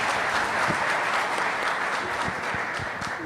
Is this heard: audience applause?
yes